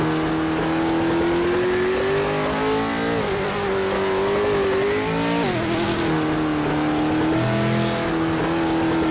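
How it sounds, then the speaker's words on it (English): Loud racing cars in a motorsport video game, engines revving continuously with shifting pitch as they accelerate and change gear, several cars layered together, close and sustained throughout with no talk. "Just realised how loud these cars are too."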